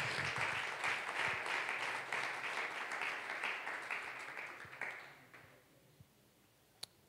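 A church congregation applauds during a sermon, a steady, fairly faint wash of clapping that fades out and leaves near silence with a couple of brief clicks.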